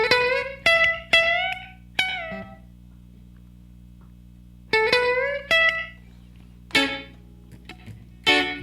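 Short electric guitar lead licks in the style of a rock song, played in separated bursts of bent, sustained notes with gaps of quiet between phrases.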